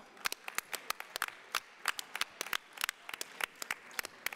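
Sparse, distinct hand claps from a small audience at a federation meeting as a bureau member comes to the podium, a modest scattering of individual claps at moderate distance.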